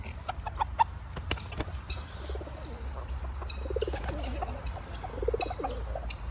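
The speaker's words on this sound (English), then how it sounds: "We got the turkeys." Turkeys and other fowl in a park, gobbling, clucking and calling in scattered bursts over a steady low outdoor rumble, at moderate distance.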